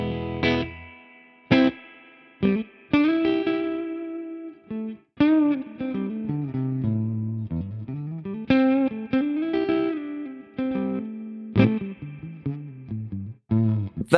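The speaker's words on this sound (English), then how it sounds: "Let's bang in some reverb." Electric guitar through a Peavey Valveking 212 tube combo amp with reverb added, playing a melodic phrase of sustained notes and short picked runs with a distorted, chorused tone, close and loud, no talking.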